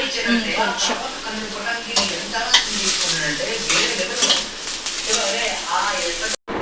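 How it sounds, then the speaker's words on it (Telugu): Onions, capsicum, tomato and boiled sweet corn shallow fry in oil in a kadai, making a continuous bright sizzle with stirring scrapes and a few clinks while someone talks over it. "నూనె వేసి అందులో ఆనియన్స్ క్యాప్సికమ్ టమాటా పీసెస్ వేసి షాలో ఫ్రై చేసింది"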